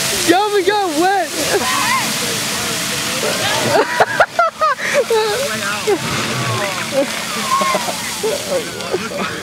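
Water gushes and sloshes over a group of people as they get soaked, a loud splashing rush that carries on throughout while several voices shout and talk excitedly over it.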